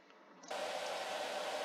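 A blow dryer in the salon of the Roblox game Adopt Me switches on after a short pause and keeps up a steady, faint whirring hiss.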